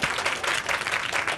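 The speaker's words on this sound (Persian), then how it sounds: "تشویقش کنین" A crowd applauds in a continuous burst of dense, loud clapping at a comedy show, with no voices over it.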